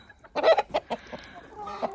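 Chickens cluck close by in short, irregular bursts, several soft calls overlapping, with no talking.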